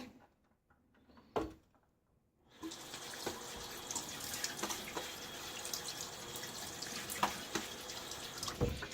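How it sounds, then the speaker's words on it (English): Water runs steadily from a bathroom sink tap for several seconds after a quiet start with a few clunks, with faint splashes as a face is rinsed during a shaving routine. "Let me splash my face before I do this."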